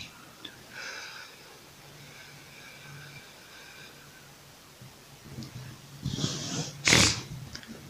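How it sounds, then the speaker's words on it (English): A few quick allergy sniffles near the end, close and fairly loud, after a stretch of quiet breathy background. "I'm sorry about the sniffles"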